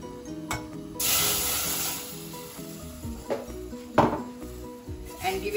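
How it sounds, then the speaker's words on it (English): Milk poured into a hot pan of flour for a white sauce bursts into a loud hiss and sizzle, followed by quieter bubbling with a few utensil clinks against the pan. "I'm going to add my milk now."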